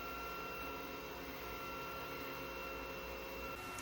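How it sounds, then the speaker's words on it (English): A 3D printer running mid-print makes a quiet, steady mechanical hum with faint motor whine and tonal buzz, continuous and fairly soft, ending with a slight change near the end. "I just sent that file that I was showing you to the 3D printer, and I wanted to show you what it sounds like while it's printing"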